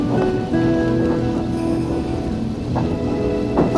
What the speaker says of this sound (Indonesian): Sepertinya hujan mulai turun.